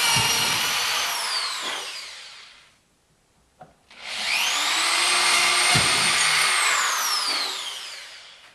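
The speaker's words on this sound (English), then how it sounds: "drill it for clearance for those mounting screws" A power drill bores clearance holes for motor mounting screws while building a vertical-axis wind turbine, two sustained whining bursts separated by a brief pause, loud and close with no talk.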